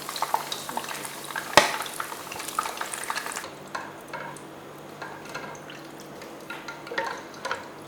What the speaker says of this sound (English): So I'm going to fry my beef and my goat meat in this oil now.